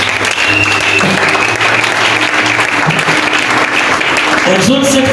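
A congregation at a French-language sermon on spiritual combat breaks into loud, sustained applause that fills the room evenly from start to finish.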